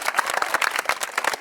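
At the Quebec aquarium walrus show, an audience claps in a short burst of scattered, fairly faint applause.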